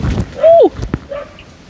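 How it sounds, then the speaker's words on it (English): A single short, sharp dog bark rings out close by, followed by softer yips and a whimpering tone, with faint bird calls in the background. "Like a dog just barked"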